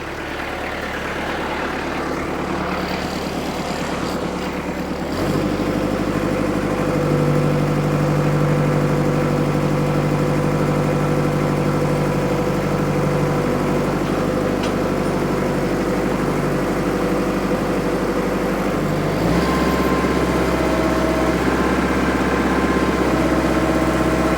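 A heavy tractor engine runs continuously at close range, its low droning pitch rising noticeably around five seconds and dropping back near the end.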